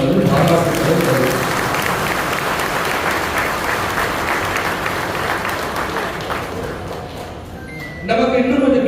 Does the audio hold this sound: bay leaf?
no